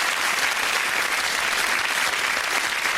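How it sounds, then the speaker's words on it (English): A game show studio audience on Family Fortunes breaks into steady, dense applause that fills the whole stretch evenly, loud and sustained with no talk over it. "The Watsons, give them a big round of applause"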